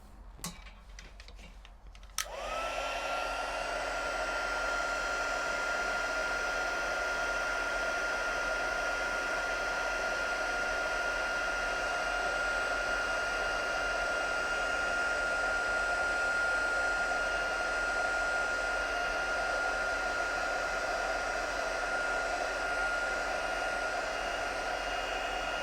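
Heat gun blowing steadily while heat embossing powder on a handmade birthday card, a loud continuous whoosh and whine that starts abruptly after a brief quiet start and runs unbroken, with no talking.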